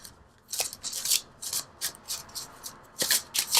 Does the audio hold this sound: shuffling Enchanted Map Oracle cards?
yes